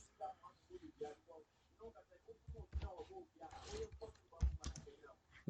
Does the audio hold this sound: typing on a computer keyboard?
yes